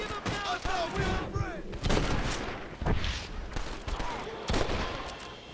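Bursts of gunfire in Red Dead Redemption, several loud shots ringing out amid outdoor game noise, with a voice briefly heard near the start.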